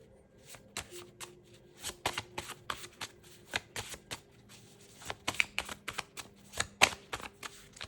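Tarot cards being shuffled by hand, a steady run of crisp riffling and flicking bursts with short pauses between them, close and fairly quiet, with no talking.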